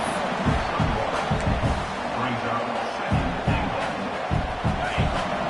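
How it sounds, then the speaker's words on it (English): A college football stadium crowd at East Carolina roars during a goal-line defensive stand, a dense, steady wash of cheering with rhythmic thumping and stomping underneath while a commentator talks over it. "This crowd is trying to inspire this defense to make a big red zone stop."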